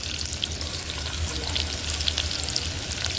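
Chopped onions sizzle steadily in hot oil in a pan on a home kitchen stove, a continuous close crackling hiss with no voices.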